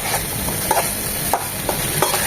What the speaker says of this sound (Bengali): দুটো টমেটো চিকন চিকন করে কেটে নিয়েছি সেটা দিয়ে দিচ্ছি যাতে টমেটোগুলো এখানে কষিয়ে নেব